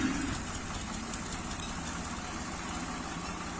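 Tractor engines idle near an animal shelter where two tractors have hauled fodder, a steady low rumble that stays even and moderately close without revving.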